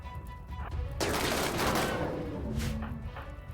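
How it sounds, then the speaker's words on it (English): Sustained rapid gunfire from mini turrets during a RimWorld base battle, a dense burst of shots that swells after the first second and stays loud to the end, with no speech. "they're busy firing on mini turrets, mostly"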